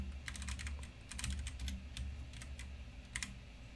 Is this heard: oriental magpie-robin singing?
no